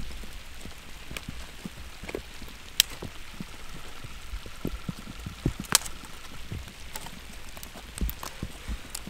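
Light rain falling outdoors at a campsite, a soft steady hiss with scattered sharper drops and taps, fairly quiet with no voices.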